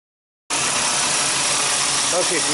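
A 2006 Jetta with the 2.5 engine and an air leak idles steadily and loudly close by, its even drone and hiss starting abruptly after a brief silence and holding without change.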